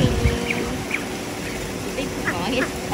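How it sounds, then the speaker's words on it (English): Mandarin ducks at a wildlife park give short, scattered quacks over a busy outdoor background, with people talking nearby. "Mandarin ducks. Carolina ducks."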